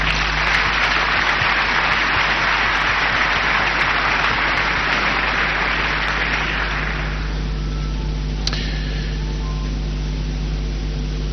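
Audience applause at the opening of a cathedral, a dense wash of clapping from a large crowd that fades out after about seven seconds into a quiet hum, with no one speaking.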